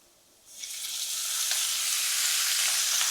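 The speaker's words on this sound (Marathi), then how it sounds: "आता आपण कांदा, टोमॅटो, आलं, लसूण भाजून घेऊया." Onion, tomato, ginger and garlic go into hot oil and break into a loud, steady sizzle that swells in and then holds, close and alone.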